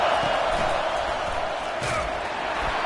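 A stadium crowd at an American football game roars steadily as it urges the defense on for a red zone stop, a dense, loud, continuous wall of cheering and noise.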